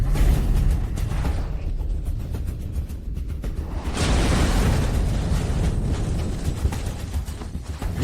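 Animated missile sound effect as the missile flies back and explodes: a sustained loud rumbling roar builds into a broad, noisy blast that swells and lingers, with no voices over it.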